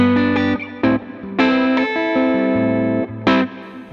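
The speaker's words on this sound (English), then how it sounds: "if I turn that dampening up to maybe halfway, so you still get that huge tail of reverb there" An electric guitar through a CKK Electronics Infinite Reverb pedal rings out in strummed chords, each sustained into a long, washing reverb tail, with short gaps between loud, bright attacks.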